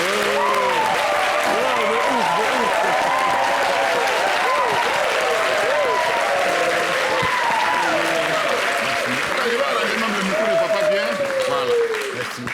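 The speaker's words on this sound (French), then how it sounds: "Maintenant, applaudissez pour celui qui est venu." Audience applause on a Beninese TV show, loud sustained clapping from a large crowd mixed with cheering and overlapping voices throughout, close and dense for about twelve seconds.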